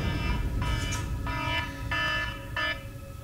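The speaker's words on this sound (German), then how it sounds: "das war mein Wecker" An alarm clock rings in four evenly spaced electronic buzzing bursts over a steady low background rumble during a horror game session, loud and close, with no talking.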